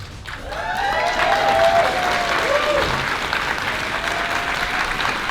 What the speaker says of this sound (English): Let's get a round of applause for Jordan